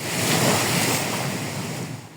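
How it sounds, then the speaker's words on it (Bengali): Loud, rushing roar of rough Bay of Bengal surf, whipped up by a low-pressure system, blended with buffeting wind noise, continuous and close, fading slightly at the end. "বঙ্গোপসাগরে লঘুচাপের প্রভাবে সাগর উত্তাল।"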